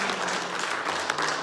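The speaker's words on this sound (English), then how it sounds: "Give the Lord a clap offering this" A church congregation claps together as a Sunday morning offering of praise, a steady dense patter of hands filling the room at moderate loudness for a brief moment.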